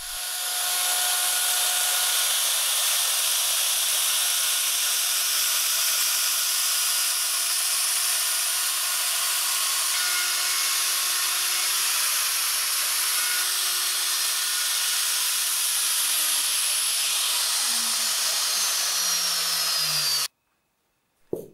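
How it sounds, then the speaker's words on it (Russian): A power tool chamfers 4–5 mm edges on the wooden parts of a garden bench, running loud and steady with a high whine for about twenty seconds before winding down in pitch and cutting off. "На всех деталях снимаю фаски."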